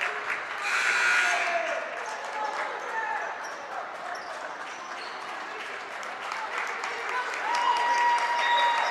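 Crowd in a gym at a Hazen versus U-32 high school basketball game applauds as a player checks out, a steady moderate clapping with arena murmur and a commentator talking over it.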